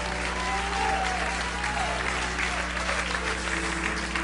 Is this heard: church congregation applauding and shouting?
yes